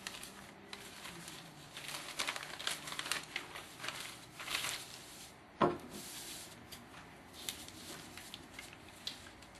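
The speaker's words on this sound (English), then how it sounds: "Take scissors and cut along the dotted line at the edge of the printed parachute." Scissors snipping through paper up close, soft crinkling cuts with one sharper click partway through; quiet overall.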